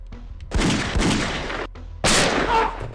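Two loud, close video game gunshots in an X-Files game, each a sharp blast with a long booming tail, separated by a brief pause.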